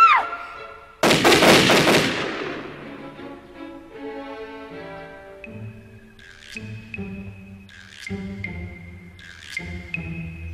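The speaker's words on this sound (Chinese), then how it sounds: "老子看你也算是一世枭雄，所以放一排空枪给你当断头炮。" A single loud blank volley from a firing squad cracks out sharply, its echo and ringing tail fading over a few seconds before soft tonal music takes over.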